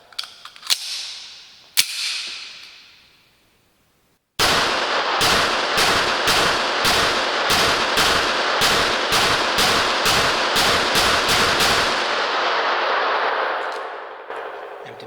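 Rapid shots from a Rock Island Armory XT 22 Magnum pistol ring out loud and close, about a dozen sharp reports in a quick steady string after a couple of isolated earlier shots, firing cheap problem ammunition.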